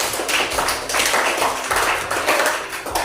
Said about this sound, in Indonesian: Oke, tepuk tangan untuk Agri.